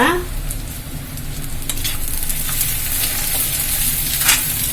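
Curry leaves drop into hot sesame oil and sizzle, a loud steady frying hiss with a sharp crackle at the start that continues evenly throughout, no talking.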